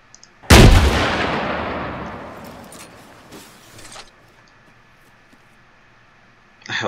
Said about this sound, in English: But I have an AT launcher and I'm ready to scare the shit out of them.